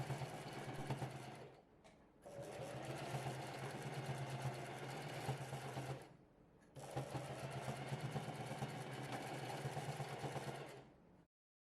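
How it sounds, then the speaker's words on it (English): Sewing machine stitching tote bag shoulder and closure straps in two long close bursts separated by a short pause, ending in silence. "I'm going to sew the shoulder and closure straps with back stitches at the start and end"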